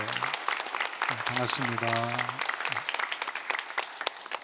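A congregation at a Korean Presbyterian Sunday worship service claps to welcome new members, a steady, fairly soft patter of many hands that continues while someone speaks briefly over it.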